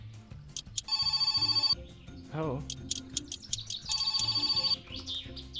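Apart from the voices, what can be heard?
telephone ringing in video game My Summer Car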